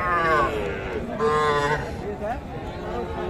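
Cattle, including young bulls and heifer calves, moo loudly at a crowded livestock market, with several long drawn-out calls one after another and a low murmur of people talking underneath.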